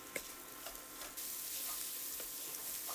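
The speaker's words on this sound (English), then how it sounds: "We've got it nice and sizzling." Quiet, steady sizzling of vegetables cooking in a pot for pistou soup, a soft continuous hiss with a few faint clicks and taps of a utensil.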